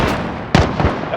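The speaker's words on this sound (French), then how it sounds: "La fusée est tirée." Flare rocket fired in the shooter game Call of Duty Modern Warfare, a sharp loud burst with a whooshing tail followed by a smaller thud, all within about a second.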